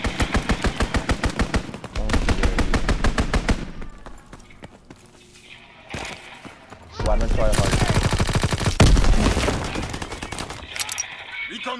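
Fighter aircraft strafing in Black Ops 3 fire loud, rapid machine-gun bursts: one long burst, a short lull, then a dense, heavy barrage, with scattered impacts in between.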